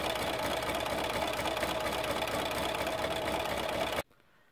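Sewing machine stitching with a blind hem foot along a fabric edge: a steady, fast, even motor whir and needle chatter held for about four seconds, then cutting off abruptly to quiet.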